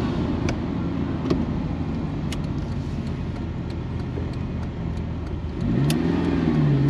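A rare analogue Ferrari with a manual gearbox accelerates, its engine droning steadily up close before a gear change brings a fresh rising surge of revs. No one speaks.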